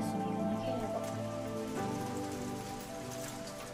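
Sudden heavy rain pours down on the way to a summer festival, a dense, continuous patter of drops on surfaces with a musical background tone running underneath.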